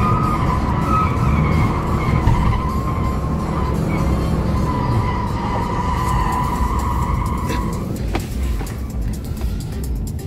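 A Mercedes slides sideways while drifting, its tires letting out a loud, sustained squeal over the engine's roar, heard close from inside the car before it eases off near the end.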